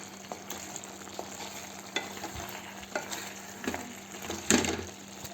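Goat curry masala with salt is stirred in a pan, giving a quiet, close sizzle with periodic spoon scrapes and a sharper knock of utensil on pan near the end.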